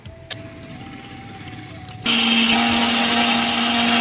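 A kitchen mixer grinder works tomato, coconut, red chillies, garlic, ginger, cinnamon, cloves and cardamom into paste. It starts with a low whirring, then jumps abruptly to a loud, steady high-pitched motor whine, close, with no voices.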